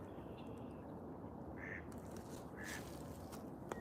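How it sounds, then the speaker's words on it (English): A duck quacks twice outdoors, short nasal calls standing out over steady broadband background noise, a few faint other sounds around them. "There's a duck."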